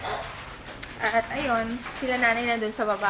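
A family dog barks and yelps close by in a few short, pitched bursts, mixed in with a person talking.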